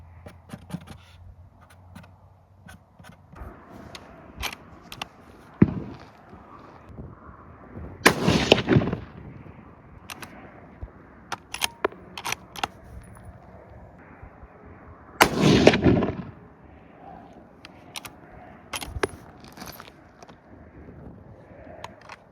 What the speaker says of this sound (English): That was my first shot. That was my second shot.